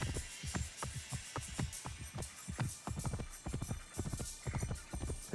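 Horse hooves gallop in the video game Assassin's Creed Origins, a fast, steady clip-clop rhythm close up over a low ambient hum, with no speech.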